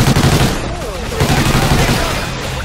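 A minigun fires in Call of Duty Ghosts Extinction as a steady, loud, dense roar of rapid gunfire lasting the whole stretch, with voices talking over it.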